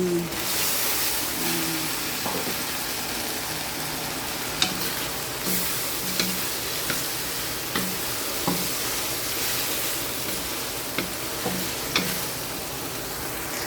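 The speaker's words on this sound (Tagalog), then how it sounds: "Igisa po natin mabuti para hindi malansa. Lagyan na rin po natin yung hipon." Shrimp sautéing in a pan for a bottle gourd stir-fry gives a steady, close sizzle, broken by regular light taps and scrapes of stirring.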